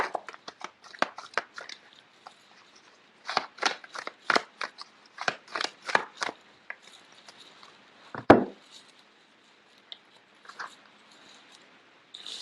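Tarot cards being shuffled and drawn from the deck in a love tarot reading: a quick run of soft, papery riffles and snaps, then a sharper slap or tap of a card set down, fairly close with no talking.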